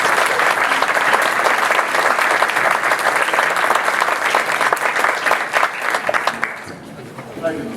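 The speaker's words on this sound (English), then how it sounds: "Let's give them a round of applause as they come up." At a volunteer gala, a large audience applauds steadily as award presenters come up, a thick, continuous wash of clapping that eases off toward the end as someone starts to talk.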